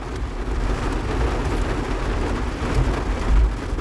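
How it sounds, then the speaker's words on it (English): Steady rain falls outside in a dense, unbroken hiss with a low rumble underneath, loud and constant throughout, no voices heard. "Forgive me, all that noise in the back, it's raining."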